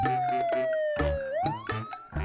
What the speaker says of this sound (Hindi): इंस्पेक्टर राठौड़ जीप में बैठे सायरन बजाते हुए तेजी से वहां से निकल गए